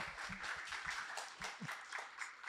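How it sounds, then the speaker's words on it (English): A conference panel audience claps for a newly introduced guest, a moderate, fairly quiet round of applause with a voice briefly heard through it. "Give him a round of applause"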